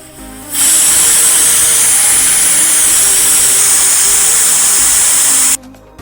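A pressure cooker making tomato rice vents steam in one loud, continuous, sharp hiss lasting several seconds, starting and stopping abruptly.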